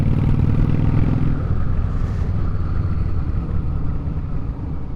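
A modified Yamaha V-Star motorcycle engine running steadily at a constant throttle without gear changes, a loud close rumble that holds evenly with slight wind noise.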